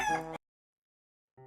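Explodable chickens in a video game give a short tonal cluck-like call, followed by a silent gap and a second brief, softer call.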